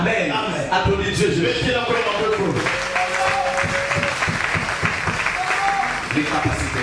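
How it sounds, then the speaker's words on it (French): Congregation clapping during a church service, a dense wash of hands rising after a preacher's voice and continuing with voices mixed in. "Applaudis Dieu."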